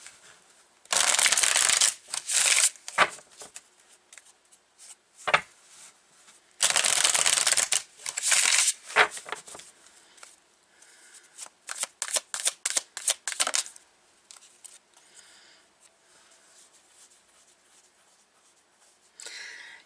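A Vice Versa Tarot deck being shuffled by hand, with loud riffling bursts of cards that come and go, then a run of shorter snapping flutters before the shuffling fades into quiet handling.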